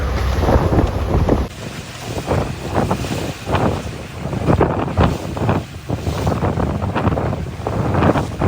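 Strong wind at sea buffets the microphone aboard a fishing boat off Satpati near Mumbai, loud roaring gusts rising and falling over the rumble of waves and the boat, with no voices.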